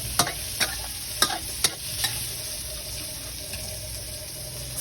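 Crispy pork and meat stir-fried in a hot pan for spicy holy basil stir-fry, a steady sizzle broken by several sharp clanks of a spatula against the pan, close and with no talking.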